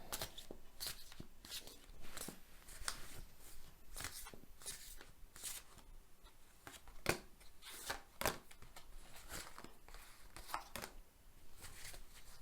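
Tarot cards are shuffled by hand in a continuous run of close, crisp riffles and slaps, with sharper bursts scattered throughout and no talking.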